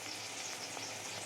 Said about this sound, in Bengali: বেরেস্তার জন্য পেঁয়াজগুলো ভাজতে দিয়েছি